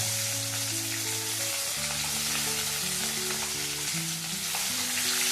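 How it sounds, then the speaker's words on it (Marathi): Chopped onion fries in hot oil for a village-style sabudana breakfast, a dense steady sizzle heard under continuous music playing over it. "त्याच्यानंतर तेलात जाईल चला थोडं भाजून घेऊया"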